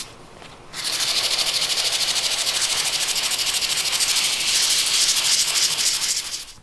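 Steady, close hissing rasp of sandpaper working over a wood and Alumilite resin accent light at 400 grit, starting after a short quiet moment and continuing evenly to the end, with no talking.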